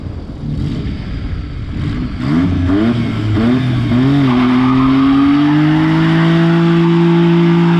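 A tuned car engine with a melted wastegate boost line revs hard and loud, the pitch rising and wavering in several surges before settling into a sustained high drone.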